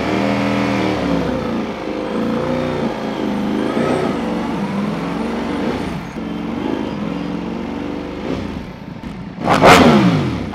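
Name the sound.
Ducati Panigale V4S motorcycle revving with Akrapovic race exhaust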